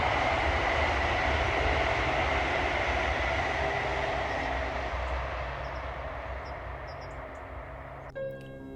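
A southbound train rumbles past at steady volume on a line near a bridge and gantry, a broad continuous roar that slowly fades, ending with a brief clattering burst.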